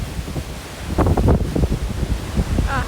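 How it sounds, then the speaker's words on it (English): Strong gusts of wind outdoors in Alaska buffet the microphone in rumbling bursts, loud and close, with no voices. "And it's so windy outside."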